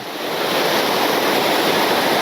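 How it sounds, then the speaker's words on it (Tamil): Waterfall water gushing beside a snowy mountain route, a loud, steady, broadband roar close by with no breaks, heard alone without any talk. "இந்த தண்ணி மட்டும் பாருங்க எப்படி அருவி தண்ணி எப்படி ஊற்றுக்கு"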